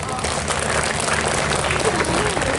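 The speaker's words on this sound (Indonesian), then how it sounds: "Ya, tepuk tangan dulu guys," A crowd of students at an orientation event led by police claps together in sustained, dense applause. It is steady and fairly loud and fills the whole stretch without pause.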